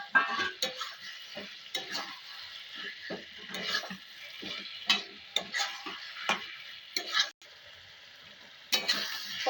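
Potatoes stirred into cooked-down tomato in a frying pan, with repeated spoon scrapes and clacks over a soft sizzle, close and irregular, with a short pause near the end.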